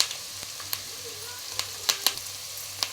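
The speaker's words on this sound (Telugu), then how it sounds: "ఉల్లిపాయలు అయితే వేస్తున్నాను ఇందులోనే కరివేపాకు అలాగే పచ్చిమిరపకాయలు కూడా యాడ్ చేసేస్తున్నామండి" Sliced onions, curry leaves and green chillies sizzle in hot oil for a chicken and bottle gourd curry, a steady close crackle dotted with sharp pops and spatters, with a faint voice in the background.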